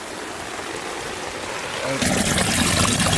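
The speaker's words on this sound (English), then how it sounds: "Look at the downspouts moving the water." Rainwater rushes steadily through a yard's downspout and French drain, a continuous gurgling flow that swells suddenly louder and fuller partway through.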